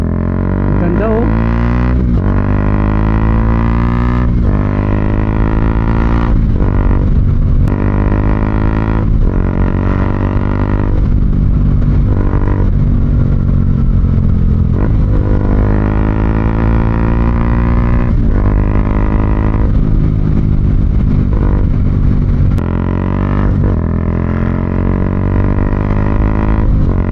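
Flyby exhaust of a single-cylinder Bajaj Dominar 400 UG2 with a Zeus muffler: a loud, sustained engine note that repeatedly swells and climbs in pitch as the bike revs and passes.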